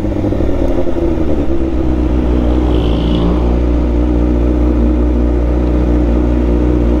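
A Kawasaki ZX6R motorcycle engine runs loud and close, a dense steady drone with small rises in revs and a faint clatter, heard alone without talk.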